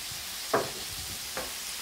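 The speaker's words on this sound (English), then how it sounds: "Now we'll stir" A spoon stirs chicken hash in a frying pan, giving two brief scraping strokes over a soft, steady sizzle, close and fairly quiet.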